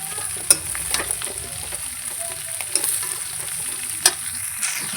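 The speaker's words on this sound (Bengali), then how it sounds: "ধুয়ে রাখা করলা আর আলু কিছুক্ষণ ধরে এইভাবে নাড়াচাড়া করে নিব" Washed bitter gourd and potato pieces are stir-fried in a pan for prawn and bitter gourd curry, giving a steady close sizzle punctuated by a few sharp spatula scrapes and clacks.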